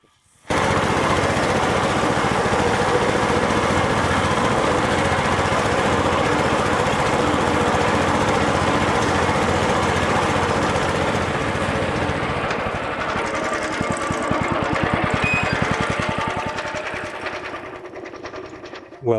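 A rotary mower on an MT-110 mini tractor cuts alfalfa, its engine running loud and steady with a continuous buzzing drone for nearly the whole stretch before easing off near the end.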